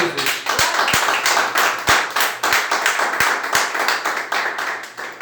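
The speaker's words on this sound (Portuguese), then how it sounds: "Uma salva de palmas para Jesus" Church congregation applauding during a sermon, a steady dense wash of clapping from many hands carrying on throughout, with a few sharper individual claps standing out near the front.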